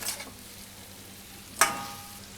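Cauliflower and capsicum cooking in a pan for a Gujarati shaak, with a soft steady sizzle broken by a couple of brief sharp stirring scrapes; no voices.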